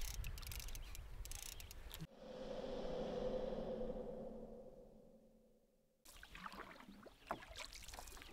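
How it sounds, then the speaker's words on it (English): A canoe is paddled across a lake in Algonquin Park by a paddler in the stern. There are soft, close strokes and water swishes, with a smoother gliding stretch in the middle and quiet outdoor ambience around it. "She's in the stern, paddling away."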